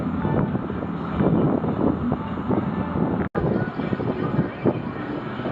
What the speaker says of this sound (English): Look how windy it is.